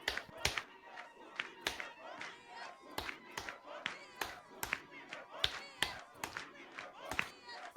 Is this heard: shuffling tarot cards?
no